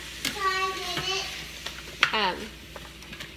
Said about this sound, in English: I will grab a spoon and stir them up